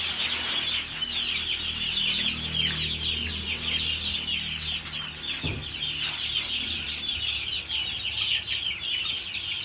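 A flock of chickens clucks continuously, with occasional wing flapping and a dense murmur of birds close by.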